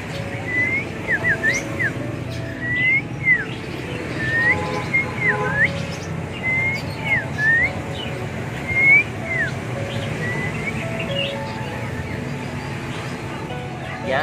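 Small tiểu than songbirds chirp with short, quick whistled notes repeated in loose bursts, moderately close over a steady background hum and murmur.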